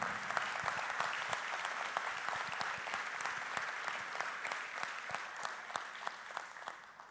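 Steady applause from a crowd at a town council installation session in Saint-Benoît, a dense even patter of many hands clapping throughout, heard at a moderate distance.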